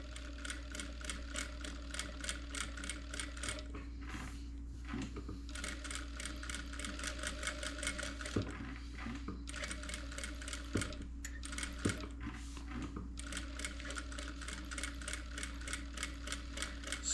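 A sewing machine quilting fabric on stitch number 3, a fast steady mechanical chatter of the needle running in bursts with brief pauses between, close and fairly quiet over a low hum, no talking.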